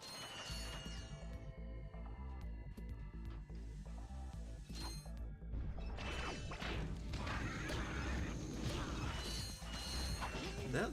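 Ratchet & Clank video game wrench smashing objects: repeated metallic whacks, crashes and mechanical clatter over a low steady game music bed, busier in the second half.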